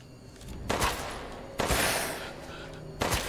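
Gunshots fired in Resident Evil Village during combat against a group of enemies: three loud, sharp blasts spaced about a second apart, each followed by a short ringing decay over a low background.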